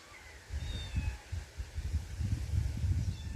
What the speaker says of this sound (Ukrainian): Котики теж прийшли